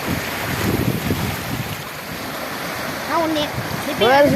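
Sea waves wash and surge nearby in broad, rushing swells on Kilakarai beach, with voices speaking over the water toward the end.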